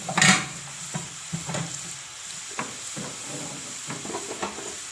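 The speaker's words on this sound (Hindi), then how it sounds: "इसको 2-3 मिनट तक ना इसी तरह फ्राई करते हैं।" Potato chips coated in gram flour batter sizzle steadily in hot oil, a close, continuous frying hiss with soft intermittent stirring clatters over it, no talking.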